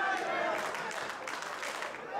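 A wrestling crowd at a live event in Sainte-Thérèse roars and claps in a dense, sustained wash of noise, with voices mixed into the din.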